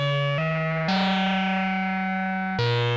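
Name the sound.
synthesizer oscillator tone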